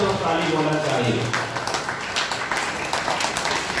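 Applause from a crowd at the Smart Cinema Award 2020, a Chhattisgarhi film award ceremony, as a standing ovation; dense, steady clapping fills the room while a voice talks over it.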